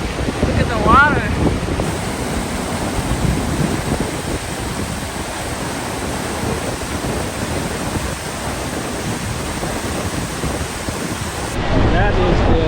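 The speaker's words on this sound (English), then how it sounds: "That is the Lower Yosemite Falls, my friends. And it's getting a little windy and wet as well." Lower Yosemite Falls in Yosemite roars as a steady, loud, broadband rush of falling water, with wind buffeting the microphone and people's voices faintly under the noise.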